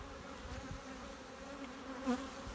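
Honey bees buzz at a beehive under inspection in Ordu, in a cold year: a faint, steady insect drone runs throughout with no talking.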